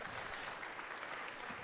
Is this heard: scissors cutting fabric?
no